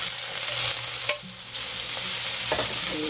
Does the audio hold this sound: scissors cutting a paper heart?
no